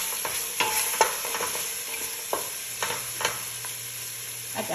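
A spicy mixture sizzles softly in a pan while a spoon stirs it, giving intermittent scrapes and light taps over a constant hiss. It is fairly quiet and there is no talk.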